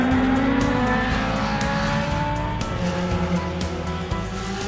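A Lotus T125 race car runs on a track, its engine a loud sustained drone shifting in pitch with gear changes, close and continuous with faint tire noise and no talking.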